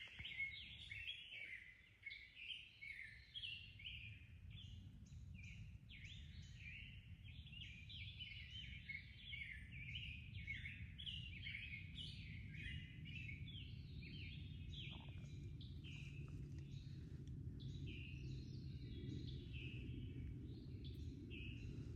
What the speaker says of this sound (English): But listen to those birds.